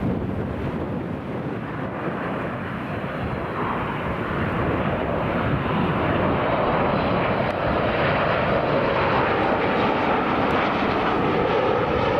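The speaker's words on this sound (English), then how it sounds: "TUI's on short final." A TUI airliner on short final at Newcastle International Airport roars loudly and steadily overhead, a broad engine rumble mixed with wind buffeting that builds slightly over twelve seconds.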